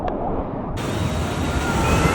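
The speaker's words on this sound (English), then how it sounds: "The waves are coming!" Ocean surf breaking on a beach in Brazil, a rushing wash of waves and wind gusting across the microphone, loud and close with no voices.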